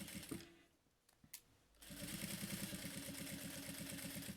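A sewing machine stitches a children's fanny pack, starting after a brief pause with a couple of handling knocks, then running in a fast, even mechanical rattle close by.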